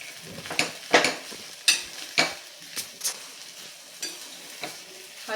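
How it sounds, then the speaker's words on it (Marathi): Potato frying in ghee for a sweet potato sheera, stirred with a utensil that scrapes the pan in repeated strokes about every half second to second, set over a steady soft sizzle, fairly close with no talking. "छान सोनेरी रंगावर आपल्याला तुपावरती परतून घ्यायचं आहे"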